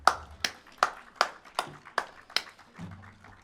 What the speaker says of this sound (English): make sure you give him a big round of applause and a big hand for doing this